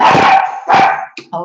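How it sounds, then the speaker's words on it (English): A dog barks loudly and close by, two sharp barks followed by a short yip, with a brief spoken exclamation between them. "pardon the dog."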